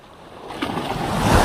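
An ocean wave rolls in, its wash swelling steadily louder over a short moment near the shore.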